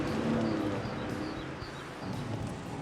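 Hopelessly underpowered Fiat Seicento engine running, heard as a thin, rough buzzing drone with a wavering whine, fairly faint and alone with no talk.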